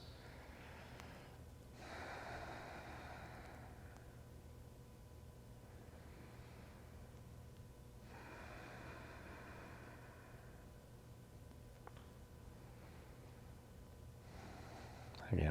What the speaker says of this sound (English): And about 5 deep breaths.